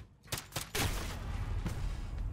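Bursts of 1911 pistol fire in the video game Modern Warfare, several sharp close shots in quick succession followed by a lingering rumbling tail, with no talking.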